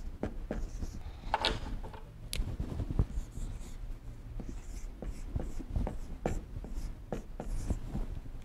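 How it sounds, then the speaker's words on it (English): Marker or chalk scratches and taps across a board as someone writes, a busy run of short strokes, quiet and fairly close, with no speech. "I'm going to write it on the board or on a piece of paper for them to see it."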